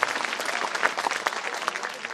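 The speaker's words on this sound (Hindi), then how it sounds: "मैं चाहता हूँ एक बार ताली बजा करके मुझे माहौल दें" An audience at the All India Mushaira 2019 poetry gathering in Maudaha, Hamirpur, claps steadily, a dense, sustained applause from a large crowd with no talk over it.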